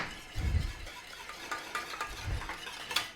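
Cheese sauce with a teaspoon of Dijon mustard stirred in a pan, with soft scraping and a couple of low thuds of the spoon, fairly quiet and alone.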